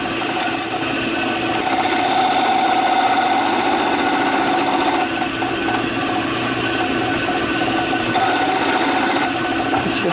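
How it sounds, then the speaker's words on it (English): Sander running against a wooden rolling pin on a lathe, a loud continuous motor whine with a gritty abrasive hiss held steady for the whole stretch, close up and without talk. "Turn on my sander again."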